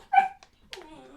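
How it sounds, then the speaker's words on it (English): A young puppy lets out a sharp, close bark, then after a brief pause a longer, whining yelp, heard alone indoors. "That's my dog."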